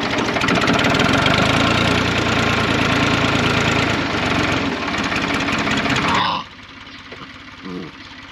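An old tractor engine driving a fertilizer spreader in a village field chugs loudly and steadily up close, with a knocking, rattling beat, before cutting off abruptly; quieter mechanical clicks follow.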